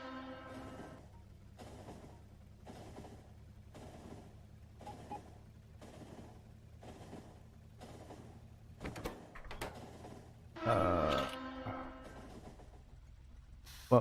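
A passenger train in the factory-building game Factorio clacks along in regular rhythmic pulses about once a second over a low rumble, with a brief louder whoosh and rattle near the end. The overall level is fairly quiet.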